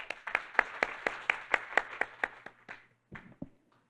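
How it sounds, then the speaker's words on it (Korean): At a Korean ESG conference, a small audience claps in welcome for a presenter, about a dozen fairly even, distinct claps that slow and fade out near the end. "큰 박수로 환영해 주시기 바랍니다"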